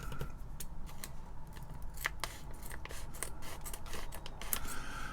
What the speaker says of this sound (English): Let me find a pair of scissors here, since this looks to have been sealed.